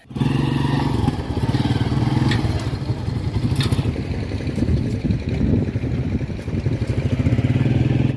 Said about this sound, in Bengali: আমাদের একটা মোটর সাইকেল নিয়ে আসছে